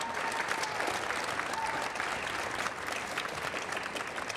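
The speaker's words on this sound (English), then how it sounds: "please clap for them and yourselves" Steady applause from a high school band concert audience fills the room, dense and even throughout with a faint murmur of crowd underneath.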